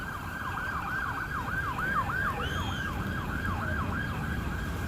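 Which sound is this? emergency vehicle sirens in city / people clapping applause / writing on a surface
emergency vehicle sirens in city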